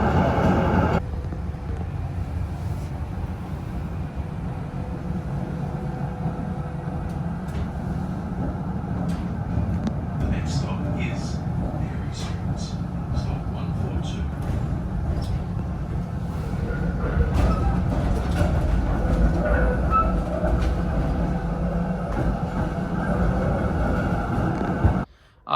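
A Melbourne tram running through the city, with a steady low rumble and rolling rail noise lasting throughout, swelling slightly toward the end before cutting off.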